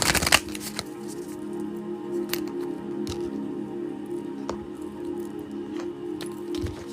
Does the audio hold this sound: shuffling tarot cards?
yes